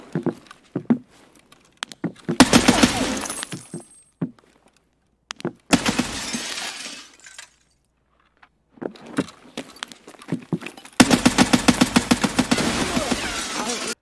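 Weapon swap to a grenade by a player in Escape from Tarkov, heard as several short bursts of metallic clicks and rattling handling noise separated by quiet gaps, fairly close and with no talking.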